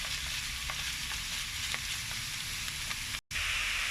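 Bacon frying in a pan for spaghetti bolognese, giving a dense, steady sizzle with faint scraping stirs throughout and a brief dropout near the end, with no talking.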